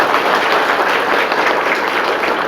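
Loud, sustained applause from an audience at a peace committee meeting, a dense wash of many hands clapping together without a break, close and filling the whole stretch.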